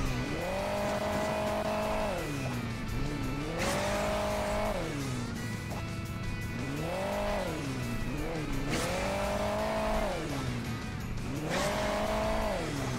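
A race car in Hill Climb Racing 2 revs loudly in repeated surges, its engine pitch climbing and falling in a regular cycle of acceleration and easing off, with a constant drone and no speech.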